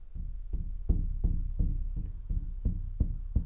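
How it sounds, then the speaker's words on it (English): A drum struck in a slow, steady beat of about ten hits, each a deep thud that fades quickly, fairly loud and alone with no talk. "I just want you to listen to the drum."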